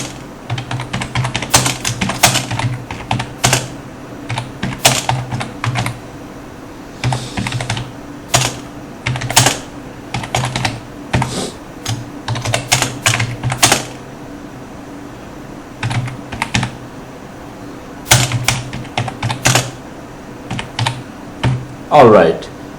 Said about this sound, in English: Let me write it first.